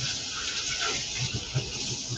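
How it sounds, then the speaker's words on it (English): Hands are rinsed quickly under a running kitchen tap while raw tilapia is being prepared, making a soft, steady splash of water that stays fairly faint throughout. "I'm going to wash my hands real fast."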